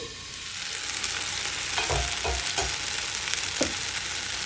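Tomatoes frying in a pan for tomato mint chutney, a continuous close sizzle broken by several soft knocks and scrapes of stirring, no voices.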